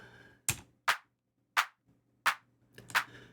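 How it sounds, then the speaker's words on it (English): A sampled clap from Ableton's stock drum plugin, struck five times in a sparse, slightly uneven pattern, each hit crisp and dry with a short decay and silence between. "So it's just a clap sound."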